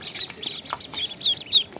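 Ducklings give a quick run of high, thin peeps close by, with several short chirps in under two seconds.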